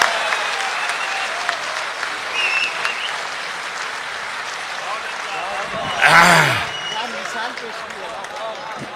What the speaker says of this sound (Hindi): तालियों के साथ बुलाइएगा।